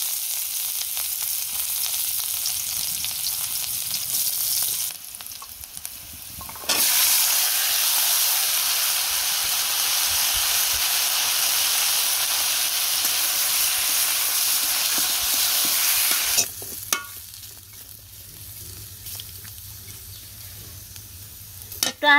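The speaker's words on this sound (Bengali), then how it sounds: "এখন ভাজি করব আলু, তেল দিয়ে দিছি, অনেক দিয়ে দিলাম।" Potatoes fry in a generous amount of oil, a loud dense sizzle that bursts up after a quieter start and hisses steadily for about ten seconds before falling back to a low crackle with faint stirring clatter.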